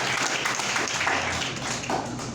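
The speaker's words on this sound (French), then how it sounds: "applaudissement pour le Seigneur" Congregation in a church service applauding, a dense, steady wash of clapping that fills the whole clip at close range, with voices mixed faintly into the noise.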